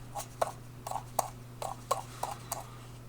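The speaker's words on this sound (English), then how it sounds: "Here's a quick sound test of the scroll" Soft ratcheting clicks from a SteelSeries Rival 3 gaming mouse scroll wheel come in about seven short bursts, spaced fairly evenly, close and quiet over a steady low hum.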